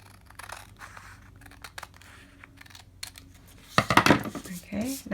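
Scissors snip through a Pokemon card in a few slow, careful cuts, crisp close clicks and rustling of card stock, ending in a louder burst of handling.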